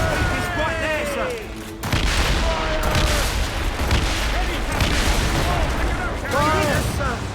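Ship cannons in a naval video game fire in loud, booming volleys that roll and crackle across several seconds, with shouted orders and voices over the barrage.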